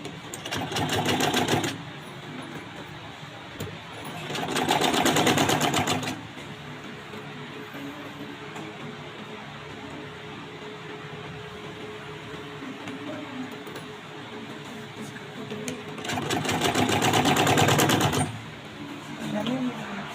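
A sewing machine stitches a baby bib in three loud bursts, separated by quieter stretches of low hum and background noise.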